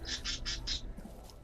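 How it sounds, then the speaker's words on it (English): A bird squawks four times in quick, even succession, shrill and fairly close, then falls quiet. "I apologize if you can hear my bird in the background."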